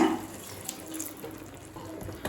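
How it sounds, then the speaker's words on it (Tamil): Water is poured steadily into a cooking pan for a couple of seconds, a soft continuous hiss with slight splashing, close by. "1/2 கப் தண்ணி சேர்த்துக்கலாங்க."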